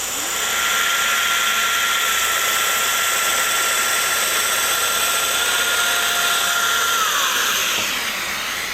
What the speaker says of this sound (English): slide it this way, and machine our second joint